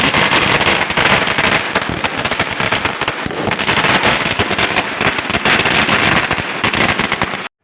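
Dense, rapid crackling of Deepavali firecrackers bursting nonstop in Malaysia, loud and close, like a long string going off in quick overlapping pops.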